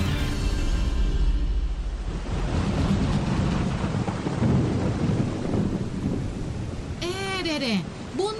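Heavy rain with rolling thunder, a loud continuous roar with deep rumbles and wind buffeting, ending with a brief sweeping tone near the end.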